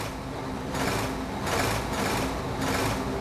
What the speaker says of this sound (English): Diesel revved his engine.